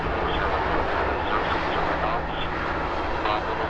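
An airplane roars steadily at Vancouver YVR airport, a broad, continuous jet noise close by that fills the whole stretch with slight swells, while faint radio voices sit underneath.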